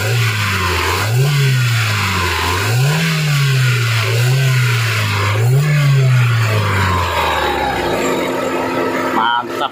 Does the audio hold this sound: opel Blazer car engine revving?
yes